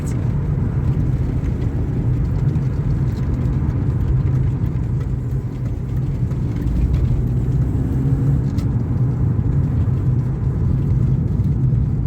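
A BMW E36 328i straight-six engine pulls steadily under load, a loud continuous smooth drone mixed with road rumble and no talking.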